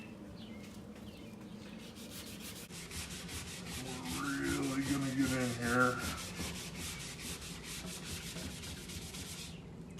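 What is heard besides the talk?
power sander with sanding pad sanding wood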